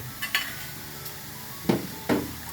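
Scraping and stirring minced beef with southern Thai curry paste in a hot pan, with a few sharp clanks of a utensil against metal over a low, steady sizzle.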